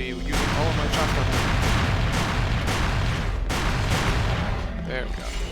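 Shotgun blasts in the Hunter: The Reckoning video game, about eight loud sharp reports fired in quick succession, close and dominant, with game sounds and some voice underneath.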